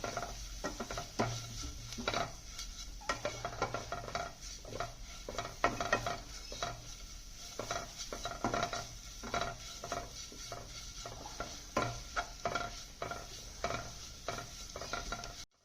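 Masala with coriander powder being stirred in a pan for mushroom masala, a soft continuous sizzle with rapid repeated scraping and clinking of the spoon, fairly faint.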